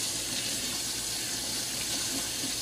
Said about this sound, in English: you can get some really cold water coming out of your faucet